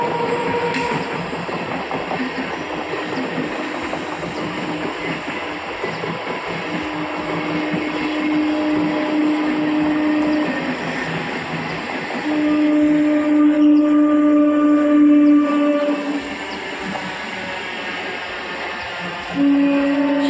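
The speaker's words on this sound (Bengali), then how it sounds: "সারাদিনই ট্রেনের আওয়াজে মাথা খেয়ে নেয়, কান মাথা একদম শেষ করে দেয়।" A train rolls past nearby with a continuous loud rumble and rhythmic clickety-clack of wheels on rails. Metallic wheel whines rise and fall over roughly twenty seconds.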